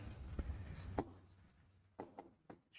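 A pen scratches across paper in short, quiet strokes, several separate scribbles with small pauses between them, close and faint, with no talking over them.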